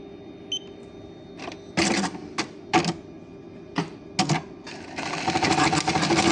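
A Juki LBH-1790 buttonhole sewing machine stitches in short rapid mechanical bursts, separated by brief pauses, before running into a longer continuous stitching run at the end, close and clear.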